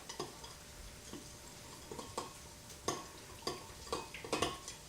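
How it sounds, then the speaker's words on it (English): Food being stirred in a pot, a series of quiet, irregular clinks and scrapes of a utensil against the pot, spaced roughly every half second to second, close and alone with no talk. "And just kind of give it a stir."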